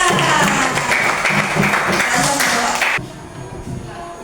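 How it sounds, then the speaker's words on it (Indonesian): A group claps steadily for about three seconds, then the applause cuts off and leaves a quieter room. "kasih tepuk tangan buat Kamila"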